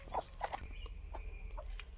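Free-range country hens cluck faintly inside a coop, a few short, scattered clucks over a quiet low background hum.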